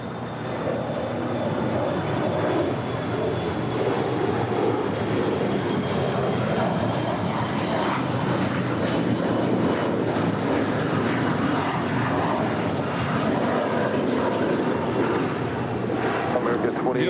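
An American Airlines jet takes off from runway 25 right at LAX, its engines a broad, steady roar sustained throughout at close range, with talk heard faintly over it.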